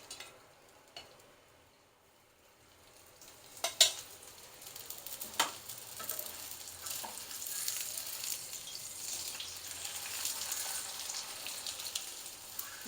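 A paratha frying in oil on a griddle gives a soft, steady sizzle that builds and crackles, with a few sharp taps and scrapes near the start and no talk.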